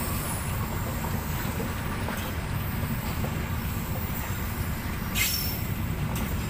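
Tourist train cars roll past a level crossing in Surabaya behind a CC206 locomotive, with a continuous loud rumble and clatter and a brief high squeal of wheels near the end.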